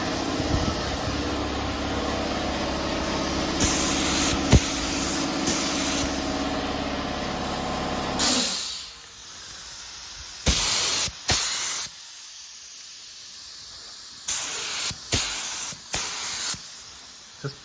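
Spray gun putting light coats of finish on BMW E38 728i leather: a long continuous hiss with a compressor hum, then after it stops, several short separate bursts of spray, close and loud.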